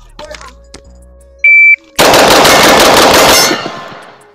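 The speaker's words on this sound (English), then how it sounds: "That was 9 shots." Rapid gunfire from a rifle fitted with a Rise Armament 434 performance trigger: after a short electronic beep, a loud, fast string of about nine shots rattles out in roughly a second and a half, followed by fading echo; brief voices precede it.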